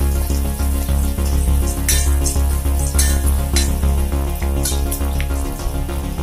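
Shallots and urad dal fry in hot oil for a banana flower stir-fry, giving a loud, continuous sizzle close up with occasional scraping stirs and no talking.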